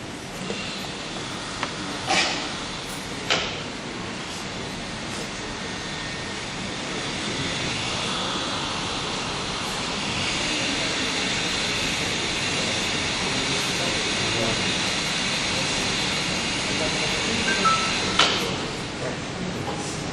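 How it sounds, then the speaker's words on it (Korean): A hair dryer warming a beehive blows with a steady, loud whooshing hiss throughout, its pitch shifting slightly midway, with a few clicks and knocks along the way. "저희가 벌통의 온도를 상승시키기 위해서 부득이하게 드라이기를 사용해서 온도를 올려보도록 하겠습니다"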